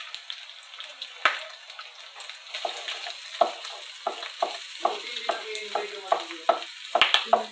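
Ginger and onion fry in a pan for pork Bicol Express, stirred with a utensil. Rhythmic scraping strokes and clicks come at a steady pace over a light background sizzle, close and fairly loud, with no talking.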